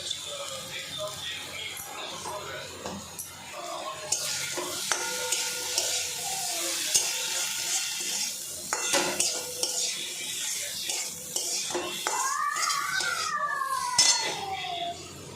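Red chili powder and ground coriander fry in a pan with steady sizzling, a spoon clinking and scraping against the metal, and someone talking over the cooking sounds.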